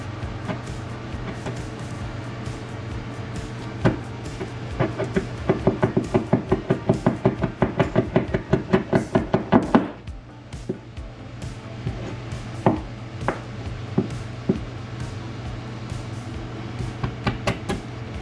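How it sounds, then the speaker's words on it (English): Chisel knocked into material during a Power Wagon lighting upgrade, a fast run of sharp, evenly spaced taps building to a burst of rapid strikes, then a pause and a few scattered knocks over a steady low hum. "Just take a chisel, get it kind of close, and I think this is going to be small enough"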